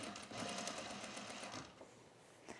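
A sewing machine runs a back stitch along a flat-fell seam near a garment's side seam, a close, fast, steady whirring that holds for about two seconds and then tapers off.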